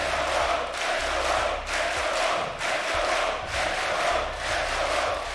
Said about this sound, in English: I really cannot overstate the volume of the crowd at the minute here in Berlin